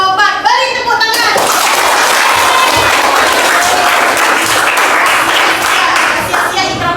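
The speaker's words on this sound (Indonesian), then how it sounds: "Beri tepuk tangan." A class applauds during an on-the-job training session, loud dense clapping that starts after a brief voice and keeps going without letup, with scattered voices and cheers mixed in and a voice rising again near the end.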